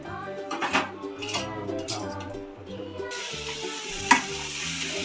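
Chicken coated in masala scraped and turned in a pan, metal utensil clinks and scrapes over a soft sizzle, with a sharper knock near the end; tonal background music runs underneath throughout.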